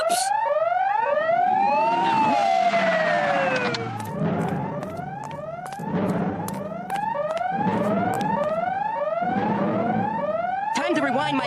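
Cartoon alarm going off, a loud rising and falling electronic siren wail that repeats in quick sweeping cycles, with voices speaking over it.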